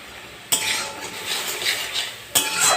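Spoonfuls of sugar going into tomato chutney in a pan, heard as close metal utensil scrapes and stirring clinks against the cookware in two bursts, with a faint background hum and no talking.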